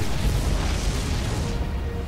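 Nuclear strike detonating in StarCraft II, a sustained loud, deep rumbling blast that rolls on for about two seconds without a clear onset or fade.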